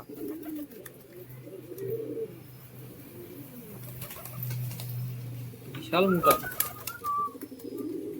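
Soft low pigeon coos murmur through the background beneath people talking, with a brief rustle or flutter partway through.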